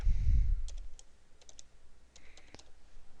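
Keystrokes on a computer keyboard while entering text in Camtasia screen-recording software, a quick burst of separate close clicks with short pauses between them, heard alone after a brief low thump at the start.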